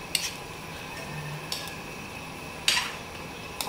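Chicken curry with curry powder is stirred in a pan, the utensil scraping and clinking against the metal in a few sharp taps and scrapes over a soft, steady background hiss.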